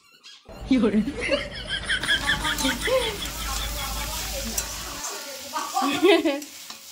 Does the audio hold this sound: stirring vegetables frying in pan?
yes